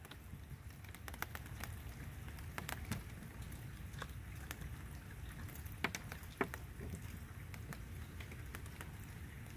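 Steady rain falls outdoors, a dense, even patter on surfaces with a few sharper drops standing out now and then. No voices are heard.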